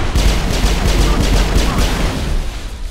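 Dense, continuous gunfire and explosive bursts from a Mass Effect firefight during use of the Overload tech power, loud and unbroken throughout with a voice briefly under the din.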